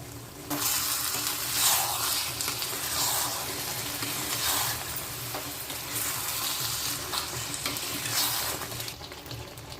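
Andhra-style spicy chicken fry cooking in a pan, with a continuous close sizzle broken by repeated scraping bursts as the pieces are stirred, loud and steady with no talk.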